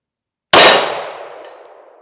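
A Springfield Armory Prodigy pistol fitted with a compensator fires a single loud, sharp shot that rings out and tails off over about a second and a half.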